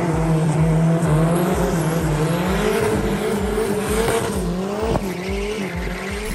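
A car on a test drive revs hard and its tires squeal continuously, a loud, sustained engine roar with screeching skids close by and no talk.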